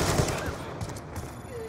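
Gunfire in an online Call of Duty–style shooter video game, a scattered crackle of distant shots under a busy game mix, fairly faint and without clear individual bursts.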